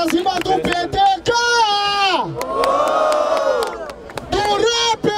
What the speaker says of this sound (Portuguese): Barulho para cima do PTK